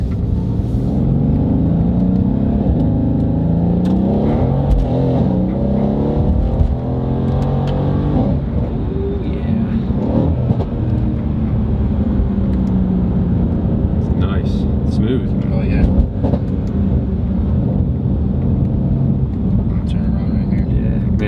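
A powerful tuned Mercedes-Benz engine in race mode roars steadily as it accelerates hard on an open road, a loud sustained drone heard from inside the cabin, with people talking over it.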